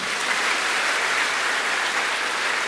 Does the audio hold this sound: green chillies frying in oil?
no